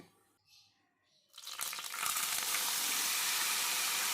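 Whole garam masala hits hot oil for a chicken curry: after a second of near quiet and soft clatter, a loud hissing sizzle bursts up and holds steady and close.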